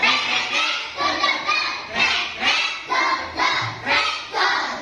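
A class of pupils claps a counted pattern in an Islamic studies lesson, a steady series of about eight to nine sharp group claps in even rhythm, close and clear with faint voices mixed in.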